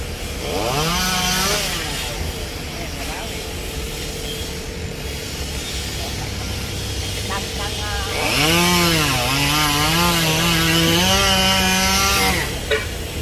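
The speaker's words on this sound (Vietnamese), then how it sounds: "anh sẽ cưa gọn mấy nhánh đó lại cho nó sát cái thân luôn" A chainsaw runs steadily throughout, its engine revving up and down as it cuts branches from a tree trunk, with a voice faintly audible beneath the noise.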